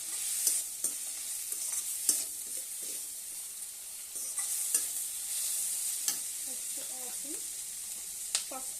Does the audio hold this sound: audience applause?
no